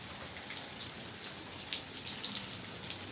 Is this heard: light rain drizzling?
yes